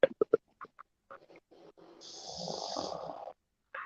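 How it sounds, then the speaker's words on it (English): A person snores loudly nearby, with a long rasping inhale that rattles and drones for over a second, after a few short clicks and sniffs and before a brief final snort. "Who's snoring?"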